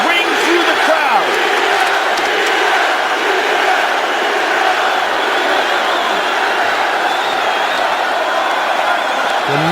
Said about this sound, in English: the chants of Diaz ring through the crowd